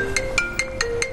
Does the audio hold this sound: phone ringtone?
yes